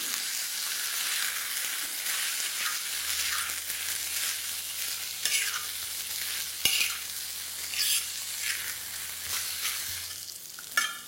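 Mutton sizzling on a hot tawa as it is stirred with ginger garlic paste and chopped green chillies, a constant close frying hiss with occasional scrapes and clinks of the utensil, no voices.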